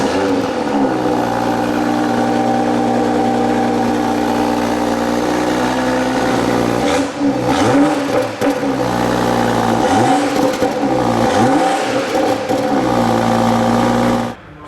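A 2018 BMW X3 M40i with sport exhaust idles with a steady, loud low rumble, then is revved several times in quick blips that rise and fall before dropping back to idle, all close by with no talking.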